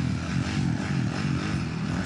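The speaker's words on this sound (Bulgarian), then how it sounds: "Може би видяхте сега как се изстреля този мотор." Motorcycle revving and pulling away at the start of the motorcycle season, a steady droning engine roar that holds at a moderate distance throughout.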